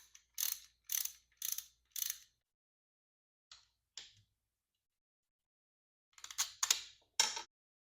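Ratchet wrench clicking on a bracket bolt of a Kawasaki Vulcan 750 motorcycle, short bursts of quick ratcheting strokes with pauses between, close and fairly quiet, a final flurry near the end.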